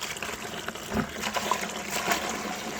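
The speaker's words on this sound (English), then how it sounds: "So I'm going to add rainwater" Rainwater pours onto comfrey leaves in a container for homemade organic fertilizer, a steady close splashing gush.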